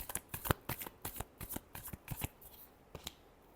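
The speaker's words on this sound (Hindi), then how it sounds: "Last shuffle." Tarot cards shuffled by hand in a quick run of crisp riffling slaps and flutters, close and fairly quiet, the bursts thinning out toward the end.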